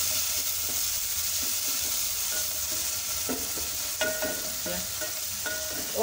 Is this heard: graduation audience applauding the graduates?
no